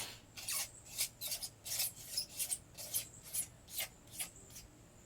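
Rhythmic rasping strokes on an aluminum LS engine block deck as it is resurfaced by hand, about a dozen quick scrubbing passes at close range with no voices.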